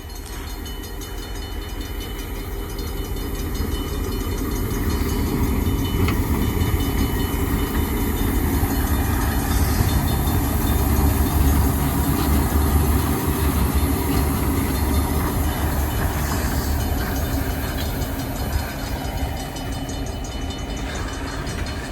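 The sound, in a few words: ELS 400 train rolling south through a crossing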